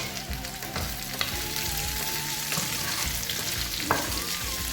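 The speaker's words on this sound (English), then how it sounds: "And then give everything a good stir." Snails and sweet peppers with chili stir-fry in a hot pan, giving a loud continuous sizzle with scraping stirs throughout.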